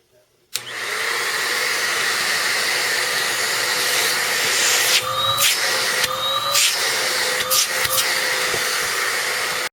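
An Oreck compact canister vacuum cleaner with a repaired hose switches on with a sudden start and runs as a loud, steady whooshing roar, with a few brief changes in pitch as airflow shifts.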